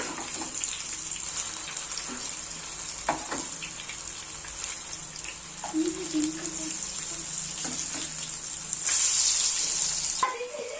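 Chicken kababs fry in oil over a low flame and are turned slowly, producing a continuous sizzle with scattered clinks and scraping, plus a brighter hissing flare near the end.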